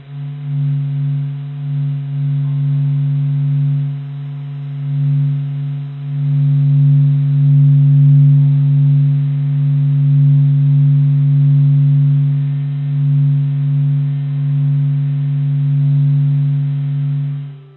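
A NASA SOHO sonification of acoustic waves ricocheting inside the sun renders as a steady, low pulsing hum with layered harmonic tones, swelling slightly in loudness partway through and holding continuously without any voices.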